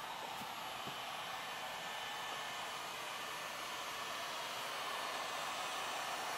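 A hair dryer on its heat setting blows with a steady, even broadband rush that stays constant throughout, close by and moderately loud.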